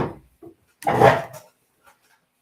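A household door is pulled open to let a cat out: one short wooden knock-and-scrape burst near the middle, with a few faint clicks before and after in an otherwise quiet room.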